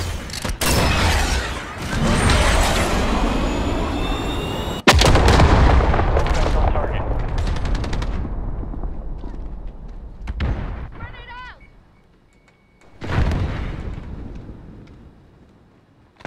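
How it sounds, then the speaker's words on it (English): Missile launch and explosions in Call of Duty Hardcore Domination on the Crash map: loud booming blasts and gunfire rumble through the opening seconds, a sharp crack near five seconds, then more scattered bursts and a late explosion. "Missile, go for launch. Target mark, send it."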